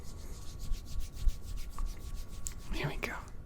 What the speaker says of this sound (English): Just gently rub it in.